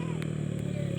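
A motorcycle speeds along a road with a steady mid-range engine drone, heard close and continuous for a moment, with people talking nearby.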